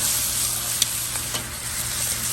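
Steak pieces sear in a Lodge cast iron wok set over a Weber kettle grill, giving a steady broadband sizzle with a couple of faint scrapes and clicks, moderately close and with no talking.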